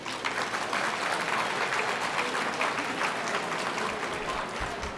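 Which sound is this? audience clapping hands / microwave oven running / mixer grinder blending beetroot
audience clapping hands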